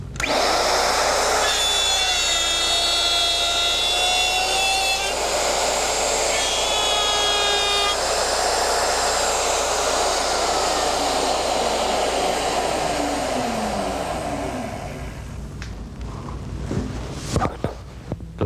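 A router fitted with a guide bushing cuts a female dovetail slot in a Porter Cable Omnijig, a loud, steady high-pitched whine that holds for about fifteen seconds and then spins down, followed by a few clunks.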